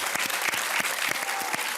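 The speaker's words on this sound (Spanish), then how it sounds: "hacemos un doble aplauso para el equipo de Sin Maquillaje" A studio audience of the Chilean TV show Sin Maquillaje claps for the program's team in a brisk, even patter, with a few sharper individual claps standing out.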